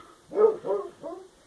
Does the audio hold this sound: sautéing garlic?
no